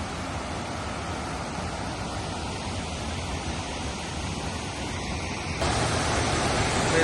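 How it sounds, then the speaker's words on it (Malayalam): Steady broadband rush of the Haritherthangara waterfall in Kannur, heard from a distance as a continuous even roar that swells louder near the end, with no voices. "അതാണ് വെള്ളച്ചാട്ടം"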